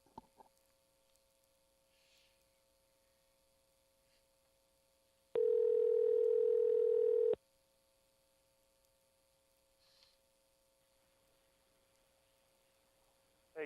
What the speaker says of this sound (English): All right, let's call him.